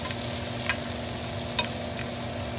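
Onions sautéing in a pan, frying to golden brown, give a soft steady sizzle with a couple of brief utensil clinks, no voices.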